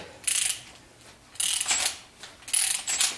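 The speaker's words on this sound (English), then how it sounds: "I can run it in with a power wrench." A power wrench spins a bolt into a cylinder head on a 1976 Corvette, in three short whirring bursts separated by brief pauses.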